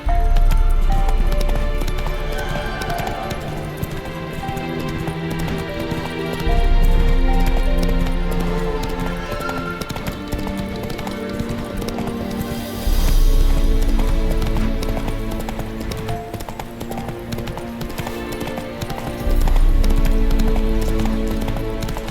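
Roach, Geralt's horse in The Witcher 3, gallops steadily over game music, hoofbeats clip-clopping in a continuous rhythm at moderate loudness, with brief surges every few seconds.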